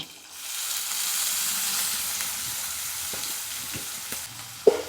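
Onions fry in a pan with green chilli and garlic for a homemade Tamil vatha kuzhambu, giving a steady hissing sizzle up close with a few scrapes and taps of stirring near the end.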